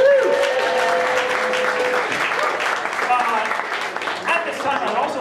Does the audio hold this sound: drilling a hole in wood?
no